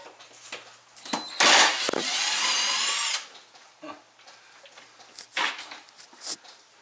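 A power drill drives screws into a kitchen cabinet during removal work: a short whir, then a loud sustained high-pitched drilling burst of about two seconds, followed by quieter knocks and handling noises.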